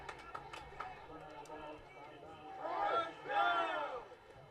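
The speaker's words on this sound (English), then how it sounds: "That's something you love to hear when you go to a football game, is the cheers of the crowd" A stadium crowd at a college football game, Cal Lutheran against Redlands, swells into loud cheering after a first down, two rising waves of roaring voices following quieter broadcast chatter.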